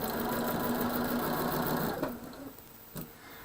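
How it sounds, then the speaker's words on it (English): A sewing machine chain stitches quilt pieces for a desert windmills sampler block, running in a steady, close whir for about two seconds before slowing, with brief stops and a short restart. "once you get all of those sewn, and I do it, I basically chain stitch it"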